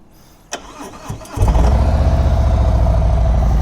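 A Harley-Davidson Street Glide motorcycle engine cranks briefly, catches and fires up, then settles into a loud, steady idle close by.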